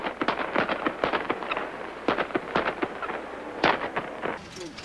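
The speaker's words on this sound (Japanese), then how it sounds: "着火した爆竹がトールの手の中で爆発。" Lit firecrackers burst during a stunt rehearsal on a Japanese high-school film set, including one going off in a man's hand, giving rapid, irregular strings of sharp, loud pops and crackles.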